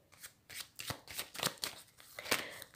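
Oracle cards being shuffled and cut for a divination reading, a close series of soft, papery riffles and slaps in irregular bursts with short pauses between them, heard alone.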